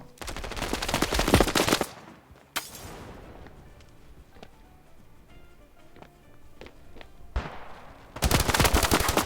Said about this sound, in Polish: to już padły pierwsze strzały ostrzegawcze